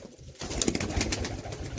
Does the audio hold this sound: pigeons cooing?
yes